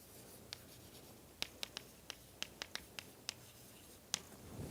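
Chalk or marker writing on a board during a doctoral lecture on partial differential equations, a series of about a dozen sharp, faint taps and short scratches at irregular intervals in a quiet room.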